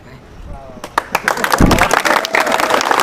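Loud applause from an audience on a Pune quiz show, starting sparse and building into dense, sustained clapping with crowd noise.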